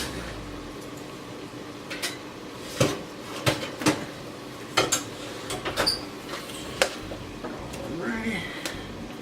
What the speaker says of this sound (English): Let me grab my other pan real quick